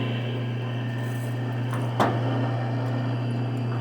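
A drill bit lubricated with WD-40 bores through a part during Ford F-150 maintenance, a steady motor hum close by with a sharp crack near the middle as the bit bites.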